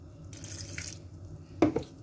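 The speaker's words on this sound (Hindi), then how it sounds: "अब इसमें मैं पानी डालूँगी," Water is poured into a gram flour batter for pakoras, with a soft trickling splash followed by a couple of sharper drip-like splashes near the end, quiet and close.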